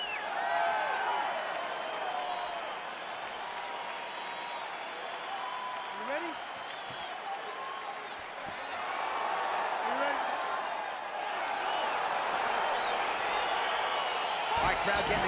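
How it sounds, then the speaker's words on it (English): An arena crowd in the UFC 4 fighting video game cheers and applauds in a sustained, fairly loud roar that swells again near the end, with no talking. "Crowd getting excited as this fight gets underway"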